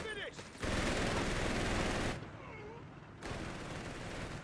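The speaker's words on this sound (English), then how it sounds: "AT gun is gonna set up now, get a shot." Anti-tank gun firing in Company of Heroes 3 amid a loud battle, with two long bursts of dense gunfire and explosions separated by a brief quieter gap, a commentator talking over the action.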